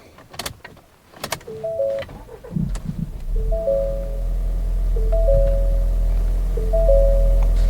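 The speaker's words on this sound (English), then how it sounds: "I'm gonna start the engine." A 2021 Ford Explorer with a four-wheel-drive fault and transmission stuck in second gear cranks and starts after a few clicks, settling into a steady, close idle hum with chimes over it.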